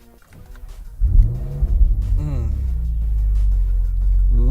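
A Ferrari 458 Spider Italia, with its naturally aspirated 4.5-litre V8 mounted behind the cabin, pulls away from a quiet start. The engine rises into a loud, deep, rumbling roar that builds and holds strongly, heard from inside the car.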